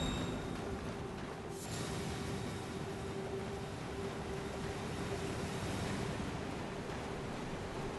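A waterfall in the video game Elden Ring gives a steady, moderately faint rushing wash like distant surf, with a low sustained hum beneath it and no talk.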